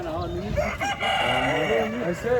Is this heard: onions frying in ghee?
no